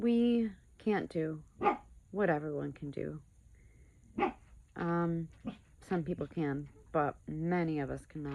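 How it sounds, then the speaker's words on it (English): Dog barking and whimpering indoors, its short yips and whines mixed in with and partly masked by continuous close speech from a person talking. "Sorry about the dog."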